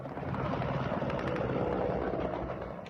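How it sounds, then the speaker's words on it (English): Military helicopters flying over Ukraine during the Russian invasion, a steady thudding rotor and engine roar, continuous and moderately distant, no talk. "Ukrainian forces try to bring down helicopters"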